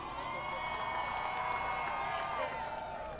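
Crowd cheering and whooping at the start of a bricklaying competition, a dense, sustained roar of many voices at a moderate distance with scattered shouts on top.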